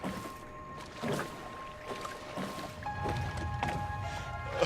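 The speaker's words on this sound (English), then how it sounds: "Alright, keep paddling, sir." A boat is paddled through water in the video game Brothers: A Tale of Two Sons, heard as quiet, irregular strokes and gurgling splashes spaced about a second apart, with soft game music tones sustained underneath.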